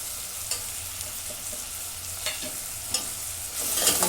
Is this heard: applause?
no